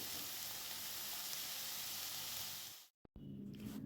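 Bitter gourd and potato frying in oil in a pan, a loud, steady, close sizzle that continues without letup, then cuts out abruptly near the end before resuming more quietly.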